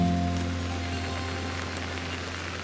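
Steady rain falling in Pokémon Legends: Arceus at sunset in the Cobalt Coastlands, a constant soft hiss of drops over a low, even ambient hum, continuous throughout with no talking.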